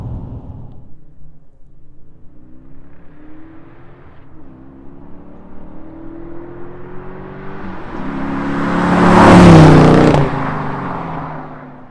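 A 2022 Dodge Challenger cruising on curvy back roads, its engine a steady low rumble heard from inside that slowly builds to a louder revving surge before easing off, with no talk.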